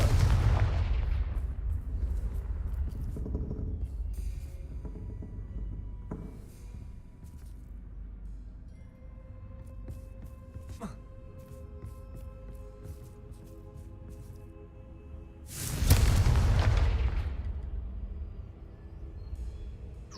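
Confringo fire-spell blasts in the Hogwarts Legacy video game: a loud booming burst at the start, a quieter stretch of rumbling in between, then a second heavy explosion near the end, with no talk.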